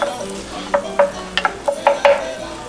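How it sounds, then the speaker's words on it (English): Chopped green bell pepper sautéing in olive oil as a base for arroz con pollo, a spoon knocking and scraping the pan in a string of sharp stirs over a soft sizzle. "1 green bell pepper chopped. Let's stir this around. Just want these to get soft."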